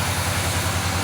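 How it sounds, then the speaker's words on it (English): A 1977 K10 truck engine runs steadily after cranking, a low, even idle rumble with a faint regular pulse, close and continuous with no talk. "Give her a few pumps. And then engage our key here. Cranks right up."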